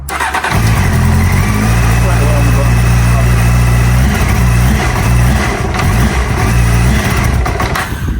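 A cold Honda Hornet CB600 motorbike on choke, with a suspected fuelling fault, runs loud and close, its rough, uneven engine note stumbling and dipping as it cuts out.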